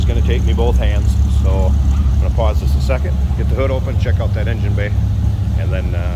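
A 1996 Dodge Viper RT/10 engine idles steadily and loud close by, a constant deep rumble running throughout, with someone talking over it.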